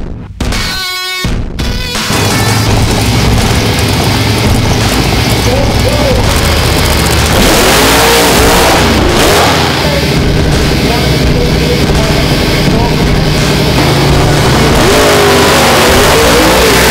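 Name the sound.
turbocharged big block Chevrolet drag car revving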